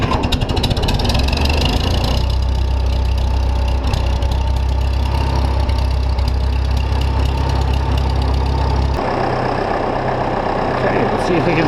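Engine turning over and catching after manifold heating on a hard-starting machine used for taking down cattle fence, then settling into a loud, steady, knocking idle close by that drops lower near the end.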